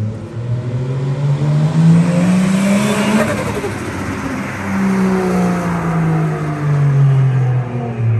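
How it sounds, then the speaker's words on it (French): A Nissan Skyline driving past outside, its engine note loud and close, rising and falling as it revs and pulls away, then swelling again, with no talk over it. "on va filmer la caisse qui passe"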